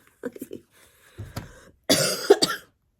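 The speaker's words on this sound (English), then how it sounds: "Don't mind this snorting over there." A few short nasal snorts and sniffs, followed by a louder burst like a cough or forceful nose blow, fairly close.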